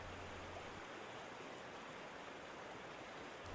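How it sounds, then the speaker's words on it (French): Mountain stream flowing over rock outdoors, a soft, steady and unbroken rush of water, faint and even from start to finish. "le flot s'écoule sans discontinuité et use la matière"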